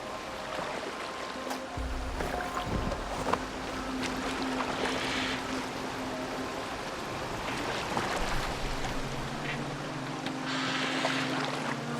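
A boat moves across water in the Viking video game Assassin's Creed Valhalla, giving a steady wash of water and wind with low rumbling and occasional creaks, fairly close and continuous, with no talking.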